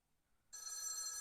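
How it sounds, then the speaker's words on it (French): A telephone rings in a video game, starting abruptly halfway through as a steady, fairly loud electronic bell tone after near silence. "Répondez au téléphone, mais je sais pas où il est le téléphone."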